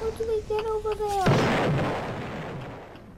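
Video game gunfire erupts as a sharp burst that gives way to a rumbling, decaying blast, with a tonal game sound just before it and a voice briefly present.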